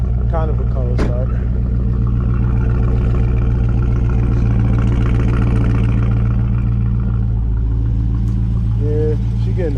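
A car engine idles steadily after a partly warm start, its low rumble running loud and constant throughout, with a brief voice near the end.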